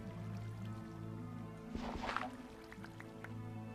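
Water pouring in within the Minecraft modpack Life in the Woods, a soft burst of rushing, dripping liquid rising in the middle over steady background music, then settling into a few faint drips.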